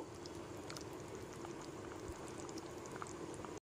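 Paneer maharani gravy simmers in a pan over a medium gas flame after hot water and fried paneer pieces are added, a soft continuous bubbling and crackling that stays faint and even before cutting off abruptly.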